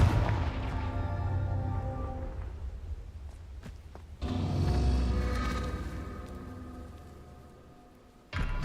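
Confringo fire spells go off in the Hogwarts Legacy game as big booming blasts: one heavy impact at the start and another around the middle, each trailing off into a long rumbling decay, with a final sharp hit at the very end.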